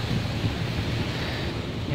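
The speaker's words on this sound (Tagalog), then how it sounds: "makadungugag ka ng waves sa dagat" Sea waves washing onto the beach at Panglao, Bohol, a steady broadband roar of surf mixed with wind buffeting the microphone, continuous and fairly loud with no talking.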